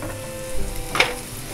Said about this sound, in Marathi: चांगला मसाला पण परतून घेतला आहे.